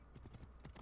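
Quick, faint clip-clop of horse hooves striking rocks in Assassin's Creed Origins, a brief run of several uneven thuds in rapid succession.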